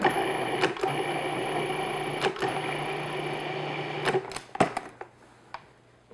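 A food processor pulses pie pastry dough in short whirring bursts, a loud motor hum cut by sharp stops, then a few clattering knocks as it falls quiet.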